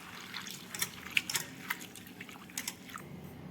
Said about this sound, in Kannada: ಈ ರೀತಿ 1-2-3 ಸಲ ನೀರೊಳಗೆ ಹಾಕಿ ಸ್ವಚ್ಛಂಗೆ ತೊಳ್ಕೊಂಡಿದ್ವಿ